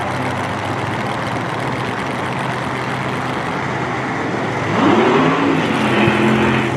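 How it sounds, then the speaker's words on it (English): A centrifugally supercharged 540 cubic inch big block Chevy engine in a Mustang funny car roars loudly and steadily during drag racing qualifying at Mo-Kan Dragway, its pitch climbing near the end. "Centrifugally supercharged 540 cubic inch big block Chevy power plant"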